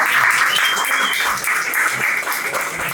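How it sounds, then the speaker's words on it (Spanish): A bar crowd applauds loudly and continuously, dense close clapping filling the whole moment with a few voices mixed in. "Un aplauso."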